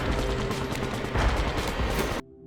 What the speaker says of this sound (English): Rice's men are now attacking Seri's trailer to kidnap him